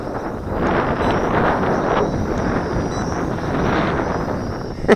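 Wind buffets the microphone on a gusty day, a continuous broad rumble that swells and eases, with a faint high drone of a hovering MJX X400 drone running underneath.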